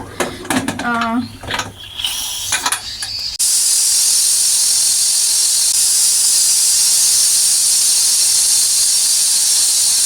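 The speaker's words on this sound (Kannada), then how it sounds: "2 ವಿಷಿಲು ಮೀಡಿಯಮ್ ಫ್ಲೇಮಲ್ಲೇ 2 ವಿಷಿಲ್ ಹೊಡೆಸ್ಕೊಡೋಣ" A pressure cooker cooking fenugreek pulao on medium flame lets out a loud, steady hissing whistle of escaping steam that carries on for several seconds, following a stretch of clattering and a voice speaking.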